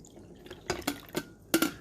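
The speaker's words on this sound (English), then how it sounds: "You're going to pour all the water in first." Water splashes and drips into the reservoir of a Black + Decker 12-cup programmable coffee maker, with a few separate close spatters over a quiet background.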